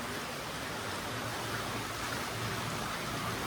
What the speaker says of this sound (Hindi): आजा जल्दी बारिश है